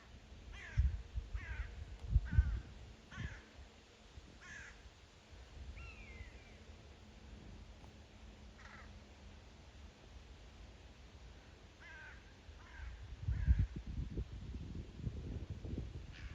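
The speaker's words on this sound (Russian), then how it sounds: "Смотрите, ворона с ястребами что-то не поделили." A crow caws repeatedly outdoors while squabbling with hawks, several harsh calls in irregular bursts, fairly faint and distant over low wind-like background rumble.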